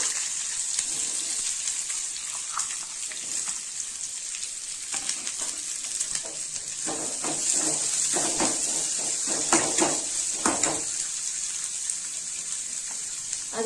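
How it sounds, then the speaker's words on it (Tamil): Sliced onion sautéing in oil with cumin seeds for a bean sambar; a continuous soft hiss of frying runs throughout, and a spoon scrapes and stirs the pan with clusters of light clatter midway, no talking. "இப்போ வெங்காயம் கொஞ்சம் சவக்க வதங்கணுங்க"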